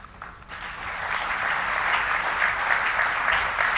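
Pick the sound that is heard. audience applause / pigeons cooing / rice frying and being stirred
audience applause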